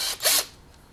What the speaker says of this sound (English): I'm going to use my countersink bit now.